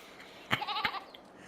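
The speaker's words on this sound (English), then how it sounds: "we should still have a very small male goat" A very small young male goat in the Farming Simulator 22 game gives a single short, wavering bleat, close and clear over a quiet background.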